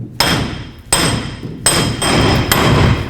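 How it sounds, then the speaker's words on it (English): Hammer blows on a seized wheel bearing hub of a 1998-2011 Ford Ranger, five loud metallic strikes with ringing decay, close up and unevenly spaced. "Essentially what I want to do now is go ahead and break this free using my hammer."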